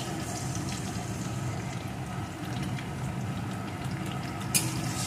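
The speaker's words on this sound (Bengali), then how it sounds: "পেঁয়াজ কুচিটা একটু ভেজে নিয়ে এর ভিতরে দিয়ে দেবো 1 চামচ আদা রসুন আর কাঁচা লঙ্কার পেস্ট।" Chopped onion frying in a pan with a spoonful of ginger, garlic and green chilli paste added, giving a steady, moderate sizzle that runs unbroken with a brief louder crackle near the end.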